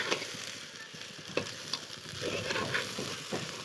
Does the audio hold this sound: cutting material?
no